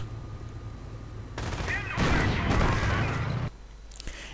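Gunfire and explosions from a World War II strategy video game featuring a Panzer IV tank, a dense burst of rapid shots and crashes swelling loudly for a couple of seconds after a quieter rumbling stretch.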